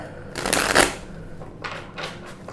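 A deck of cards is riffled and shuffled, a long crisp flutter followed by a few shorter riffles, close and fairly loud.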